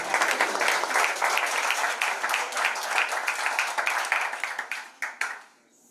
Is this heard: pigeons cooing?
no